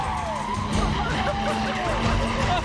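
Motocross dirt bike engine held on the throttle during a race, a dense continuous roar with rising whine under loud crowd and commentary noise, people talking over it throughout.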